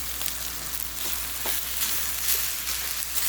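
Tomato rice sizzles steadily in a hot pan while being stirred and mixed, with a continuous crackling fry and soft scraping, close and alone without any voices.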